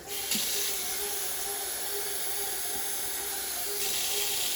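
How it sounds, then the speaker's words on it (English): Water pours steadily from a tap, a constant close rushing hiss with faint splashing, lasting the whole time. "And we'll get a little more water."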